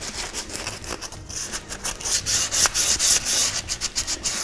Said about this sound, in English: When sanding, it can be tedious